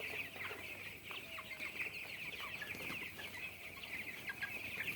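Broiler chickens on a farm cluck and chirp steadily while drinking from an automatic drinker, a dense, continuous flock chatter with many overlapping calls and no voices.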